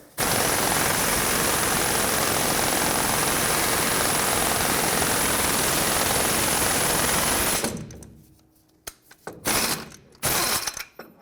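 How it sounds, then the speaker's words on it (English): An air impact wrench drives a press to push the lower ball joint out of the control arm on a 2004-2008 Ford F-150. It gives a loud, continuous rattling hammer for about seven seconds, then stops, followed by a few short bursts. "use my air impact and press it down until it slides out of the control arm"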